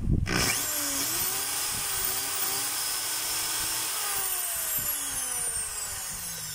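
A Bosch half-inch hammer drill spins up with a sharp start, then holds a loud, steady, high whine close by. Its pitch dips and rises slightly as the speed shifts during the test run.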